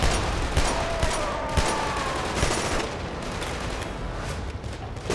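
Continuous rapid gunfire from a weapon in the shooter game Killzone 2, a loud, dense rattle of shots that keeps going without pause and stays close and unbroken from start to end.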